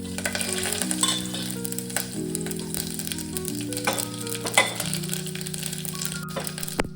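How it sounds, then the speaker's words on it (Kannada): Tempering spices hit about half a ladle of hot oil for majjige huli, giving a continuous crackling sizzle with occasional clinks and stirring, under steady background music and without any talk. "ಇವಾಗ ಒಗ್ಗರಣೆ ಹಾಕೊಳ್ರಿ"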